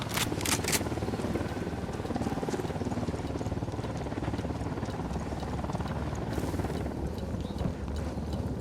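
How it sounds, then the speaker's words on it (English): A helicopter in the video game Ghost Recon Wildlands, its steady rotor thump and engine drone filling the scene continuously, with a few sharp clicks and crackles early on. "Helicopter, get down."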